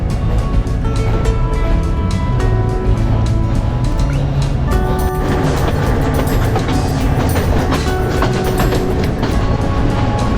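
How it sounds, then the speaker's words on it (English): The CALIPSO train runs loudly through Sri Lanka's hill country, its wheels drumming on the tracks in a continuous rhythmic clatter with squeals and rattling carriages throughout. "the rhythmic sound of the tracks beneath you"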